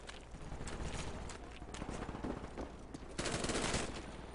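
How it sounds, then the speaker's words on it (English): Faint, rapid bursts of gunfire crackle in the Black Ops shooter game on PC, firing in quick repeated rattles that swell louder toward the end. "Thanks for shooting me."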